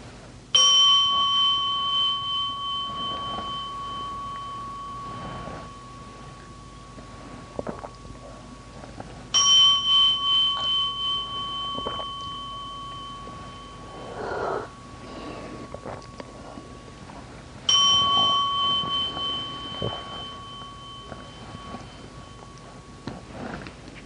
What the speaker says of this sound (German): Aber jetzt will Jürgen erstmal die Glocke schlagen